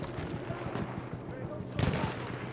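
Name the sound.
gunfire in the video game Battlefield 1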